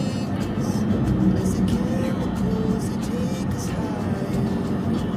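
Congested road traffic near San Pablo: a steady rumble of idling and creeping cars and larger vehicles, with occasional passing engines and people talking over it.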